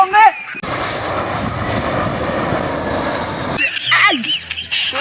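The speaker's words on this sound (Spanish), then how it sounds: "Así me da encima este avión." Airplane flying low overhead, a loud broadband engine roar rushing in and holding for about three seconds before cutting away, with a person talking excitedly before and after.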